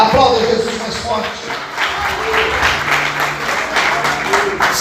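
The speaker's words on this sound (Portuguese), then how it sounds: "Aplauda Jesus mais forte." A congregation applauds in a dense, sustained wash of clapping, loud and continuous, with voices mixed underneath.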